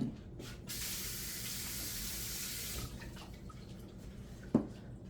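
Water pours from a tap into a pot during Mexican freezer-meal cooking, a steady close hiss and splash lasting a couple of seconds before cutting off, followed by faint kitchen clatter and a sharp knock.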